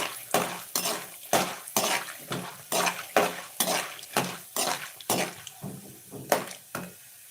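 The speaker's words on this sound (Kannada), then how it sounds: "ಇದನ್ನು ನೀಟಾಗಿ ಫ್ರೈ ಮಾಡ್ಕೊಳ್ಳಿ ಎಣ್ಣೆ ಇನ್ನೊಂದು ಸ್ವಲ್ಪ ಬೇಕು ಅನಿಸಿದ್ರೆ ಹಾಕೋತೀನಿ" A spatula stirs and fries ingredients in oil in a pan while making avalakki uppittu, scraping in a steady rhythm of about a dozen close strokes against the metal under a soft sizzle.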